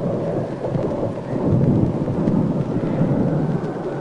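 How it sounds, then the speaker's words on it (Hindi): Thunder rumbles low and steady before rain in a 1990 Hindi film, a deep continuous roll that swells slightly and carries on with no voices. "लगता है बारिश आने वाली है।"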